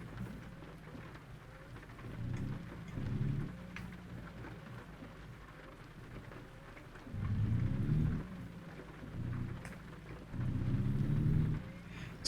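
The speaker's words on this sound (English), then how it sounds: "In addition to the truck sounds, the driving sounds, you also get rain." Rain falling steadily in the American Truck Simulator game, with several rolls of thunder rumbling in waves over the constant patter, no voices.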